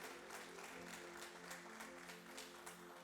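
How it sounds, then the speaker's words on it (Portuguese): A church congregation applauds during a family worship service, a steady wash of many hands clapping at moderate loudness with a low sustained hum or organ tone underneath, no speech. "Você pode aplaudir a Ele."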